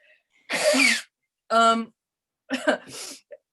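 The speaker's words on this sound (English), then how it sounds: "I have to blow my nose." Three short, loud bursts of nasal blowing separated by brief silences, close by, with no talk.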